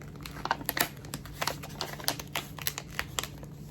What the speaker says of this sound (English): So let me take the tape off of this top side.